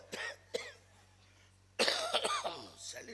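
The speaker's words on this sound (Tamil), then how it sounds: "இருமல் தான் தொந்தரா" A person coughs in short harsh bursts, two close coughs, a pause, then a louder cluster of coughing and throat clearing with a steady low hum underneath.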